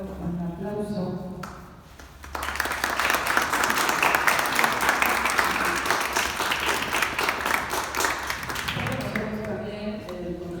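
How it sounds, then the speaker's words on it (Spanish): Sustained applause from an indoor audience at a Hidalgo state anniversary event, loud and steady for several seconds, with a voice speaking over the PA before and after. "yo les pido para nuestro invitado un aplauso"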